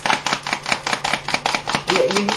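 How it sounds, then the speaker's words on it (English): Rapid wet squishing and slapping of sugar cookie dough being mixed by hand, in quick irregular bursts, close up with no talking. "my method, which is mixing it with my hands"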